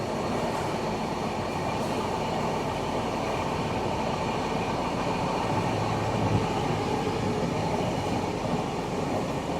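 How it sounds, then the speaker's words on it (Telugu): An AC superfast express train from Bengaluru to Howrah rolls steadily around a curve, heard from inside as a continuous loud rumble of wheels on track with faint rhythmic clatter throughout. "మన ట్రైన్ ఇప్పుడు కరువు కొడుతుంది చూడండి"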